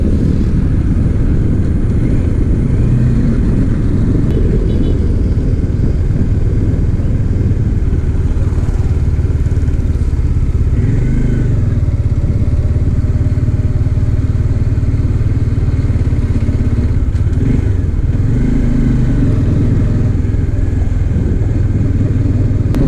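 A Bajaj Dominar 400 motorcycle engine drones steadily and loud while being ridden, its pitch dipping and rising briefly as gears are shifted, with continuous road and wind rumble underneath.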